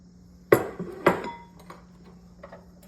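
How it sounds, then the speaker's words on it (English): A spoon stirs crumbled cooked bacon into a mayonnaise mixture in a bowl, giving two sharp, close clinks against the dish about half a second apart, then soft, faint scraping. "Let's go ahead and get that stirred into it so it's evenly distributed in there."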